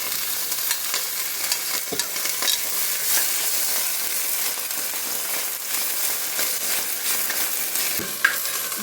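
Drumstick leaves hit hot oil with garlic, green chilies and curry leaves for a Kerala-style sambar, giving a steady bright sizzle with occasional stirring clinks and no talk.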